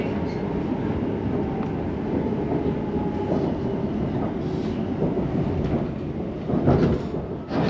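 A Class 345 Elizabeth Line train runs steadily at close range, a continuous rolling rumble with faint wheel clatter and a brief rise in noise near the end, no talking.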